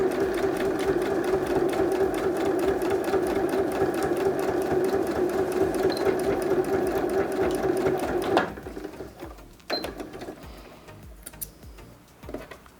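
Sewing machine stitching the base of a milk-carton Easter basket, a steady close run of rapid even needle clatter that stops abruptly, followed by a few handling clicks and knocks.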